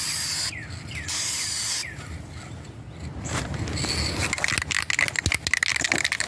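Spray gun laying a first coat of universal silver metallic paint on a 2004 Kia Spectra front bumper, with two short hissing bursts, then mechanical clatter and rustling that grows busier toward the end.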